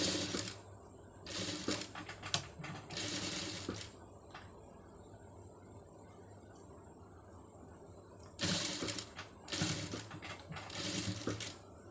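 A sewing machine stitches a saree-cloth sleeve in two close runs of quick rhythmic bursts, separated by a quiet pause.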